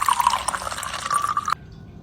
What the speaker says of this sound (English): Now pour some water into a bowl.